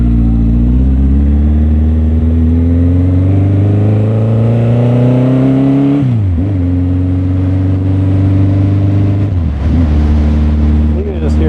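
A Honda CB1100 motorcycle engine runs loud and close, its deep throb climbing steadily in pitch under throttle, dropping sharply around the six-second mark and again near nine and a half seconds before rising once more.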